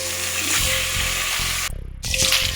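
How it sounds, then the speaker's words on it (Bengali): Potato pieces sizzle and fry in hot oil with cumin, a steady broadband crackle with stirring scrapes, briefly dropping off near the end before resuming, with no talk. "আলুগুলো দিয়ে দিচ্ছি আলুগুলো প্রথম আমি একটু ভেজে নেব"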